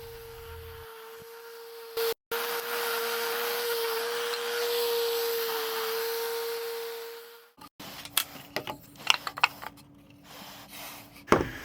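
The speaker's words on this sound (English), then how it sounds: "And ultimately, I'll get everything sanded down to 150 grit." A power sander works wood for most of the clip as a steady, loud, whirring hum with a constant tone, then cuts off, leaving scattered clicks and handling knocks.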